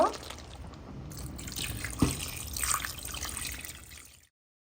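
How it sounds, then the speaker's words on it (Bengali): Water poured into a cooking pot of chicken curry, a soft trickling and splashing pour at moderate distance with a faint clunk midway, fading to silence at the end. "এখন আমি পানি দিয়ে দিব"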